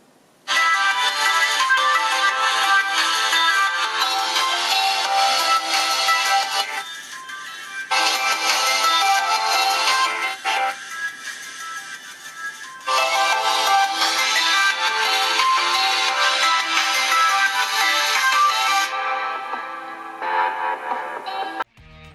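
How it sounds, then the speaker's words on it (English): A ringtone melody plays loudly through the single bottom speaker of a Lenovo Z5 phone, bright and slightly thin, repeating in phrases separated by brief pauses before cutting off. "Lenovo Z5 is equipped with single speaker on the bottom. It has very loud sound, but I cannot say it is high quality."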